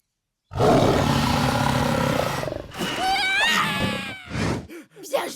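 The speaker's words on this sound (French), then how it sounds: "On a failli servir d'apéro à un lion enragé" A cartoon lion lets out a long, loud, snarling roar up close, followed by shorter growls and squeals, with the roar bursting in after a moment of silence.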